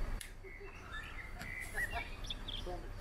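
A small bird chirps in short, thin, high calls scattered across the few seconds, fairly faint against a low background rumble in a Yerevan neighborhood.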